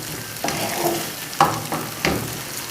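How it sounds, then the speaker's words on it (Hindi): An onion and capsicum dish cooks over a very low flame, with a soft steady sizzle and a few stirring scrapes and clinks in the pan. "आंच बिल्कुल कम कर दी है मैंने, बिल्कुल धीमी आंच में ये इस वक्त पक रही है।"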